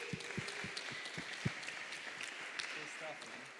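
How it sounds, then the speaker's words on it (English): A conference audience applauds a guest speaker, with a few sharp distinct claps at first blending into a steady wash of clapping. "another big round of applause for our guest, Af."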